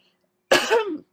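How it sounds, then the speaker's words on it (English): A single short, close cough, sharp at the start and then trailing off quickly, with silence before it. "with an awkward cough"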